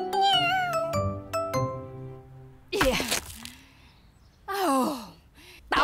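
A cartoon cat from the Hello Jadoo animated series makes a series of sighing, meowing vocal sounds, along with bright chime-like ding tones at the start. It is close and clear, with pauses between the bursts.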